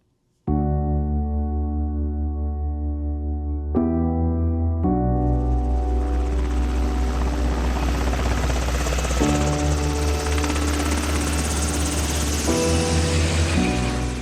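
An Idaho Army National Guard rescue helicopter with hoist capability: loud, steady rotor drone and engine whine dominate throughout, close and continuous, with a sudden rise in intensity early on.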